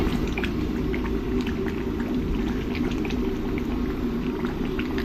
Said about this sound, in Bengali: মাটনের ঝোলটা যখন এরকম শুকিয়ে আসবে তখন এরকম নিচের থেকে ভালো করে নাড়তে থাকতে হবে নইলে নিচে লেগে যেতে পারে